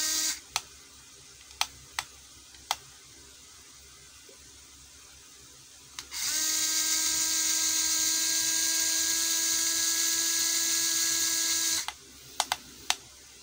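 A ZPER ZP016-3 cordless screwdriver runs at its lowest speed, around 210 rpm, giving a steady whining hum for several seconds, framed by a few sharp clicks of switch handling before and after.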